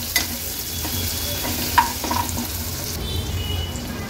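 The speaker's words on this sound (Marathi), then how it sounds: "गॅसची फ्लेम मीडियम वर ठेवून आपल्याला कांदा शिजवून घ्यायचा आहे।" Onion with asafoetida frying in a pan over a medium flame, a soft steady sizzle with a few light scrapes and taps of a spoon, close by and without talk.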